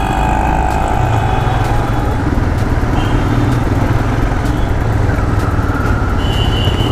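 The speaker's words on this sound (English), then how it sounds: "And this is a liquid cooled engine, if I'm not wrong." Royal Enfield Himalayan BS4 motorcycle engine running loud and close in a city street, a steady low rumble with traffic noise around it and no voices.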